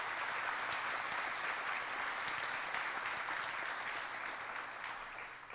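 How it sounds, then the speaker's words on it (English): An audience claps steadily for student presenters at a Cumberland County education event, with dense, sustained applause that holds fairly even throughout and tapers slightly near the end. "Let's give our student presenters a big round of applause."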